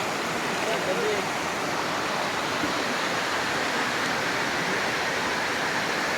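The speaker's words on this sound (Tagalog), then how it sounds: "Pagkatapos ng dagat, ilog naman." River water flowing in Salay, Misamis Oriental: a steady, broadband rushing hiss, continuous and even, with no distinct splashes.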